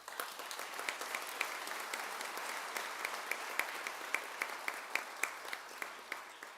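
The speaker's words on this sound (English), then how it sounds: "they also deserve a big round of applause" Sustained applause from a commencement ceremony audience honouring the staff, a dense wash of many hands clapping at moderate distance with a few louder, closer claps standing out rhythmically near the end.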